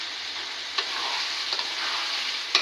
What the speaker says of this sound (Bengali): এই যে মাংস রান্না করছি